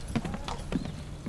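Horses clip-clop along a street on Mackinac Island, two or three crisp, close hoof strikes in quick succession with a voice faintly in the background.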